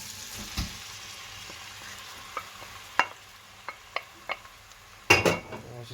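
Onion frying in a pan for chicken curry, a steady low sizzle broken by sharp spoon clinks and scrapes, with a burst of louder stirring near the end.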